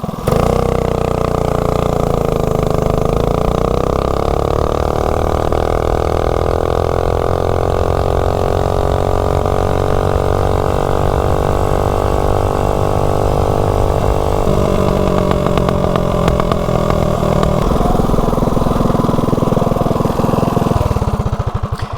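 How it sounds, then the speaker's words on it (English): A stock Tillotson 212 engine on a Motovox mini bike with a 10-tooth clutch, accelerating from 0 to 30: a loud, steady, rising engine drone that climbs in pitch throughout, with a shift in tone near the end and no talking. "All right, 0 to 30, totally stock Tillotson 212."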